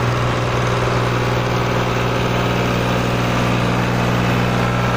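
Tractor diesel engine running steadily in low gear, a loud continuous low throb with a strong droning hum that holds an even pitch throughout.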